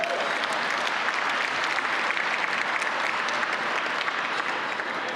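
A large audience at a workforce training center awards celebration applauds steadily, a dense continuous wash of clapping that holds even in loudness for several seconds with no talk over it.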